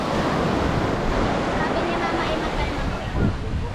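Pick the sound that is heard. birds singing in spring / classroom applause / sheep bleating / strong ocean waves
strong ocean waves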